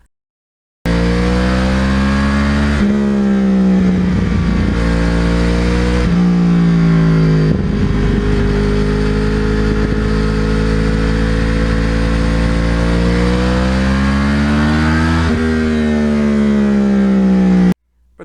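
A Yamaha R1 crossplane motorcycle engine, nicknamed the Ground Pounder, revs loud and close with a deep, uneven rumble that climbs and falls in pitch over several sustained pulls, without any talk.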